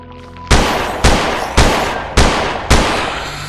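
Five heavy gunshots ring out in a video game, evenly spaced about half a second apart, each loud and close with a booming decaying tail.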